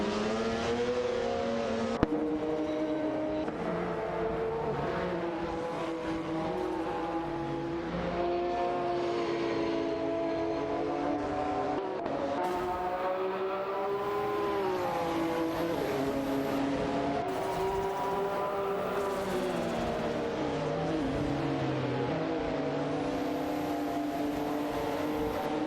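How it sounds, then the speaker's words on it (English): Engines of AI-driven race cars in a racing video game whine continuously, with rising and falling pitch as they accelerate and shift through gears, a sustained droning chorus that never lets up across the whole stretch. "Let's buckle up and enjoy some AI-driven race car action together."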